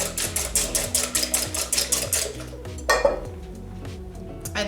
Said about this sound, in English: Just make sure you get them nice and mixed up so there's no separated